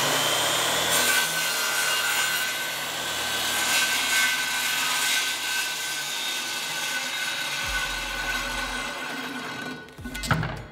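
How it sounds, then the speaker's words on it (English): A Skil circular saw cuts through wood with a loud, sustained whine and rasp that holds steady for about nine seconds, then winds down and stops with a few clunks at the end. "Start your saw."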